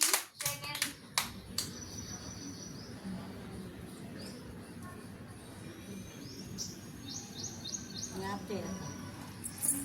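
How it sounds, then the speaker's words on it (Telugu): Children at an anganwadi preschool clap their hands in a short, uneven burst at the start, then things go quiet except for faint insect chirping and a few small voices in the background. "వెరీ గుడ్ చప్పట్లు కొట్టండి"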